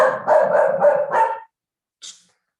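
A dog barks in a quick run of five or six loud, close barks over about one and a half seconds, then goes quiet before one short, fainter yip.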